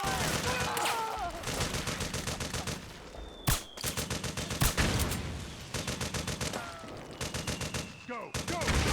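Sustained automatic gunfire in Metal Gear Solid 4: Guns of the Patriots, rapid dense bursts rattling almost continuously with a few sharper single cracks, loud and close, with faint shouted voices mixed underneath.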